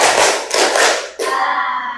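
A classroom of pupils claps in unison for a tepuk semangat cheer, two bursts of dense group clapping close together, the second cut off sharply, followed by a lingering ringing tone.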